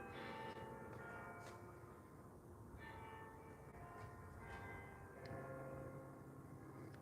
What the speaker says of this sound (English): Yep, bells are still working in that tower.